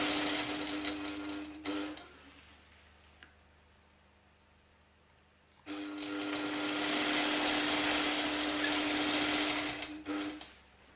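Longarm quilting machine stitching a clamshell quilt design, a steady fast mechanical whir with a hum, running in two long stretches separated by a quieter pause, close and fairly loud.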